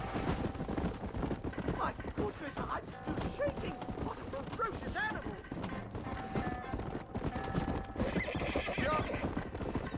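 A horse in the Red Dead Redemption video game gallops with steady clip-clopping hooves and lets out a loud whinny, under a busy layer of game sound and voices.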